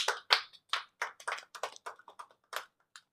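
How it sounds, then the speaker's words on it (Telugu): A small group claps hands for a giveaway winner of a mango pickle contest, a scattered, uneven run of sharp slaps over about three seconds, fairly close and without anyone talking. "Okay claps claps."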